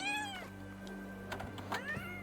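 A person imitates a cat's meow in two drawn-out, rising-and-falling vocal calls, one at the start and one near the end, with faint clicks and a low steady hum between them.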